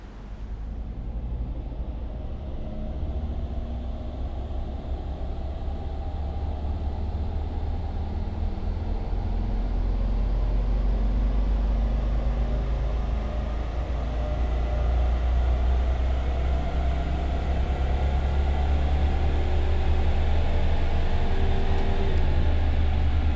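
A Mercedes 250 D Turbo diesel engine runs on a dynamometer power test, its loud deep drone climbing steadily in pitch and volume as the load builds, with a strong rumbling low end and no talking.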